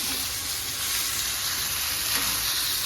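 Large pomfret fish fry in a small amount of oil on a clay griddle. A steady, close crackling sizzle holds evenly throughout with no pauses.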